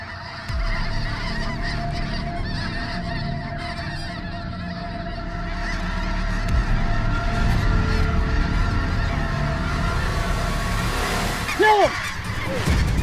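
A large flock of Ross geese honks continuously over an open field during a goose hunt, a dense, steady chorus of calls building louder, with a brief close honk near the end.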